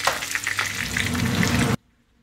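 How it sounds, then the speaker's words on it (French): Homemade crispy chicken nuggets frying in hot oil on a stovetop, giving a steady, loud, close sizzle and crackle that runs for under two seconds, then cuts abruptly to near silence. "je suis passée donc à la friture de mes nuggets"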